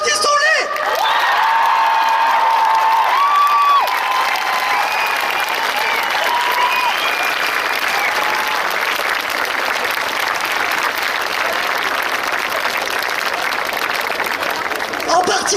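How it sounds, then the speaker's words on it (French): A large crowd at the Rennes Pride march bursts into sustained applause with cheers and whoops, loud and continuous for about fifteen seconds, with a voice briefly heard over the start. "Applaudissons-les!"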